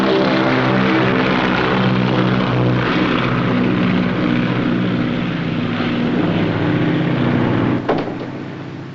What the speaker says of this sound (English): It's only the mail plane for London.